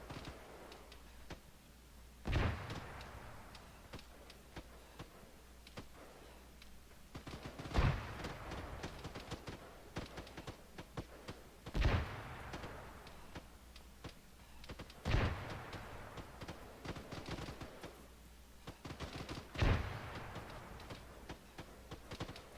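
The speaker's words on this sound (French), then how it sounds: "je lance la grenade ouest" Gunfire and a grenade blast in the military shooter Arma 3: sharp shots crack out one at a time, about five in all, spaced several seconds apart over a steady low background. No one speaks.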